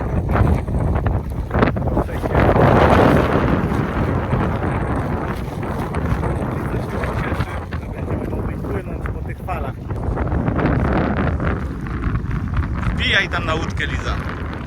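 A boat pulls away from Pig Island, Ko Ma, in Thailand. A steady broadband rush of wind buffeting the microphone and water noise runs throughout, swelling slightly midway.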